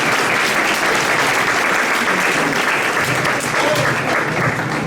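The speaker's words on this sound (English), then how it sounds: "So a round of applause please" Sustained, loud audience applause fills the room at an interfaith iftar dinner held at a Muslim education center, a dense steady clapping that runs unbroken throughout.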